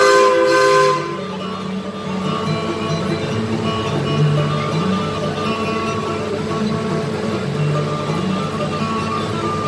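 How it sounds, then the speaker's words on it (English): A long, steady train whistle sounds over the rumble of an amusement park railroad train at Six Flags Over Georgia, holding for several seconds alongside a constant mechanical drone. "With the toot of our whistle, we'll be on our way."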